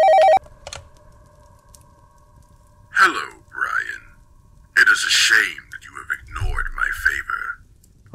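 A landline telephone rings in the horror game Where Is Sarah. One short, bright electronic ring comes first, then a quiet stretch, and then a person talks over faint background noise.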